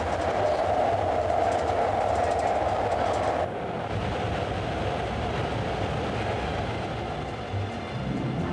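A BART train rolls along the rails with a steady, dense rumble and rattle heard from inside the car, running continuously without any talk.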